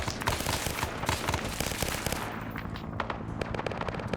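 Continuous heavy gunfire from a military game set in jungle fighting, with dense rapid cracks and bursts rattling on and on without a break, loud and close.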